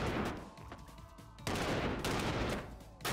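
Rapid volleys of gunfire in the ScourgeBringer video game sound in dense, crackling bursts, with a brief lull before the shooting resumes loud and close.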